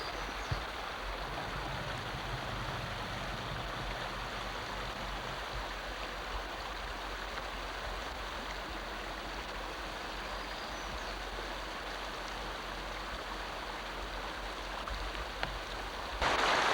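A creek after high water rushes across a road in a steady broadband flow, continuous and fairly constant in level from start to finish, with a brief knock near the end and no talking.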